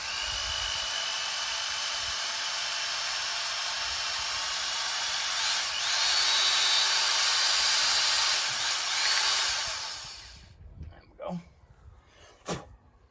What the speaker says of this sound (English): So we're gonna punch in this hole here and try not to maim myself whilst doing it.